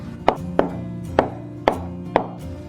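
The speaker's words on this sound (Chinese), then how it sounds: "准备1块嫩豆腐，切成小块。" A knife cuts soft tofu into small pieces on a cutting board: five sharp, evenly spaced chops that sound close and clear, with no talking.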